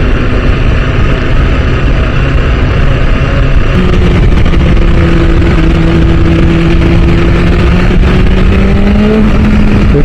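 A BMW S1000RR motorcycle engine drones loudly and steadily while riding, with a thick, rushing wind layer; partway through, the engine note climbs in pitch as it revs up and keeps rising.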